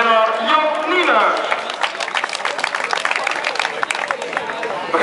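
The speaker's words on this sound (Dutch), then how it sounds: "En dan dames en heren voor dit hele podium nogmaals een applaus voor Bert van der Winden, Karel Edens en de winnaar Jan Nienhuis." Audience applause for the podium at the prize ceremony of the Parkstadloop running race, a voice speaking over the opening, then dense clapping that swells and carries on alone to the end.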